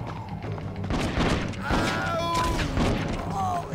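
Repeated gunfire in the Western shooter video game Red Dead Revolver, a rapid series of punchy shots and thuds mixed with game sound effects and a voice talking over them.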